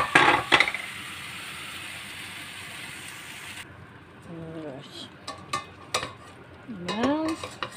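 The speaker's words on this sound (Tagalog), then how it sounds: "ihalo na natin yung ginisang ingredients guys" Sautéed ingredients for pork mechado are stirred in a pan, with scraping and sizzling up close at first, then softer clinks as a person talks over the cooking.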